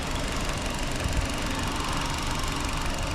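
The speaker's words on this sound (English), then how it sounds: "oh yeah, small little engine." Small 1.6-liter engine of a 2024 Nissan Versa S running, a steady, even hum with a faint knocking texture, heard close and alone.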